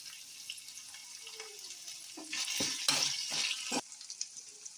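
Crushed garlic, ginger, curry leaves and asafoetida frying in hot oil in a pan for a prawn curry: a soft, close sizzle that swells into a brighter crackle for about a second and a half, then settles back down.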